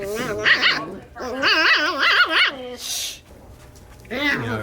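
Several dogs roam an office at Black Rifle Coffee, producing loud, close yips, barks and whiny vocalizations in bursts, with short pauses between them.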